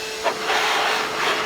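Compressed air blasts dust out of an upturned Dewalt 745 table saw outdoors, a steady loud hiss with short bursts swelling through it.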